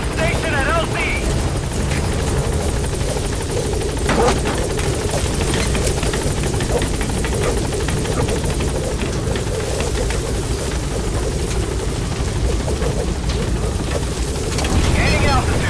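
A helicopter in the video game Metal Gear Solid V makes a constant loud rotor and engine roar with wind-like rushing, steady from start to finish, close and dominant, with radio voices talking over it.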